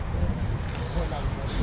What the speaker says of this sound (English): it's you may have just heard, it's absolutely windy up